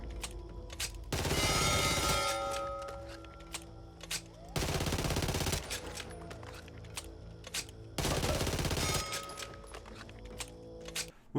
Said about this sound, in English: Next up we've got the Glock 23 Auto. This thing is a fully automatic pistol